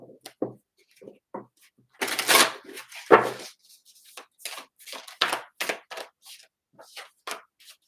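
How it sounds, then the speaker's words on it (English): Egyptian tarot cards are shuffled by hand in close, crisp bursts of riffling and flicking, with brief pauses between, in an otherwise quiet room. "let's get some more tarot. We'll go with the Egyptian tarot."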